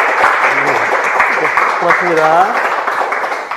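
Clapping from a small audience patters beneath a person speaking, brief and moderately loud.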